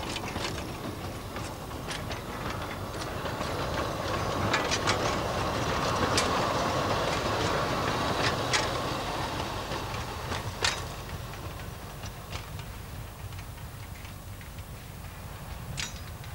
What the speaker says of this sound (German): und weiter rollt der Zug bergauf